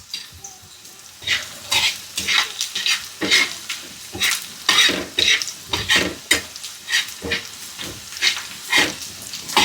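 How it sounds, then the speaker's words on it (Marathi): Chopped onion sizzles steadily in a hot pan while a spoon stirs it in repeated scraping strokes, close and fairly loud, for a village-style tandulja leafy vegetable dish. "तर कांदा व्यवस्थित लालसर होऊ द्यायचा."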